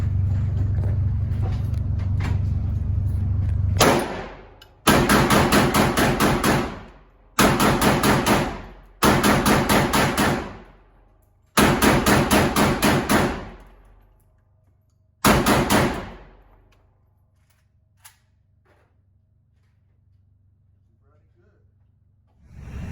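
Loud gunshots from a full-size Draco C, an AK-47 style pistol, fired at an outdoor target: several close bursts of rapid shots separated by short pauses, each burst ending sharply, then a quiet stretch at the end.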